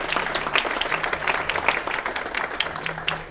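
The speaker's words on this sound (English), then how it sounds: "So we can give them a round of applause." Steady round of applause from a conference audience, dense clapping held at an even level through the whole stretch with a faint voice or two underneath.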